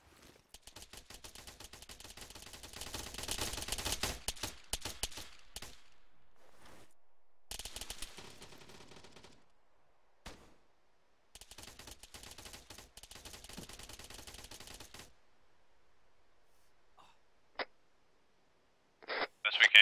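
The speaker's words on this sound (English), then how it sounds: "Shit, taking fire, don't know where from." Long bursts of automatic machine gun fire from a helmet-mounted view, rapid crackling rounds in sections several seconds long separated by gaps, with a couple of isolated single shots and radio chatter near the end.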